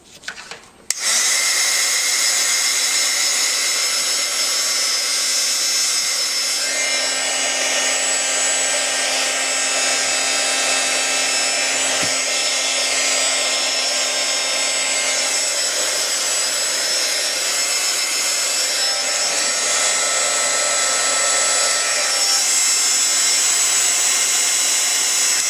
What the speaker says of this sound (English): you take your heat tool and you want to dry it and you're going to fluff it at the same time